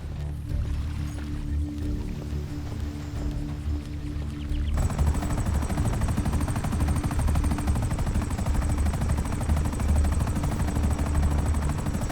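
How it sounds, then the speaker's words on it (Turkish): A helicopter in the GTA V video game hovers with continuous rotor noise while firing a machine gun in loud, rapid bursts, growing denser and fuller partway through, with no voices. "Şu gördüğün helikopter, buraya gelmesi biraz maliyetli oldu ve ateş etmesi"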